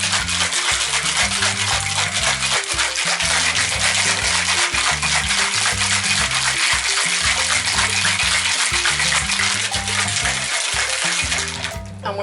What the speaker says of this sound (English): Now we're gonna get to shake this really well.